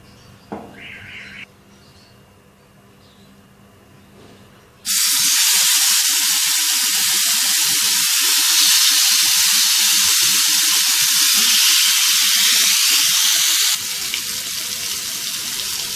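Chicken tikka boti pieces hit hot oil in a grill pan over low-to-medium heat, breaking into a loud, steady sizzle that carries on to the end, after a quieter stretch of kitchen sounds.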